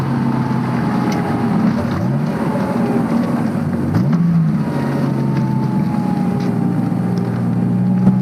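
Mitsubishi Legnum VR-4 twin-turbo engine, 1990s Japanese wagon, gives a loud, close, steady drone with a short rev swell midway and no talking.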